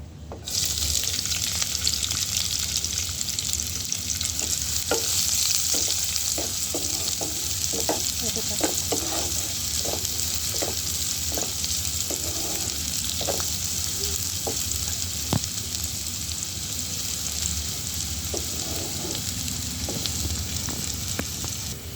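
Onion and garlic frying in a pan for chana dal bhuna, a steady loud sizzle with intermittent stirring scrapes and clicks of a spatula throughout.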